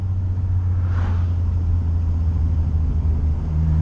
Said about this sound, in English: It makes such a good sound on de-acceleration. The turbo coming in and going through a gear and stuff